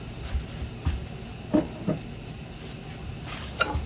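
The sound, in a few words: browning in hot bacon grease, stirring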